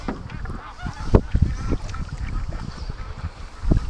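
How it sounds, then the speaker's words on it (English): Ducks on a creek give honking, quacking calls in irregular bursts, fairly close, mixed with light water sloshing from a canoe and some wind. "That's a mess of ducks down there."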